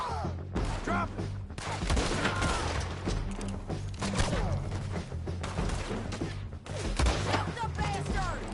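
Rapid gunfire in Red Dead Redemption 2, dense bursts of shots and impacts running throughout, loud and close, mixed with shouting voices and a steady low background.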